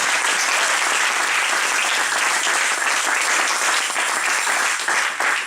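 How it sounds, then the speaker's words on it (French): A church congregation claps loudly and continuously, a dense wash of applause from a large crowd that holds steady, then eases slightly at the end. "Donc nous acclamons très fort pour notre maman."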